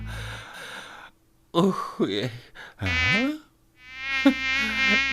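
A buzzing, insect-like drone comes in uneven bursts with short pauses between, the last stretch steady and sustained; it sounds close and fairly loud.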